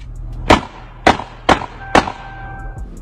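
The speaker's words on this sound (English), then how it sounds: "You can hear him fighting in the background before shots start going off" Gunshots ring out during a fight, picked up on an Instagram Live phone stream: four sharp, fairly close bangs in an uneven sequence over about two seconds, each trailing off quickly, with no talking.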